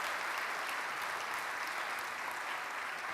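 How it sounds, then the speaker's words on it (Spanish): A church congregation claps in a continuous, even wash of applause at a moderate level, heard alone without talk. "¿Cuánto le aplauden a la palabra de Dios?"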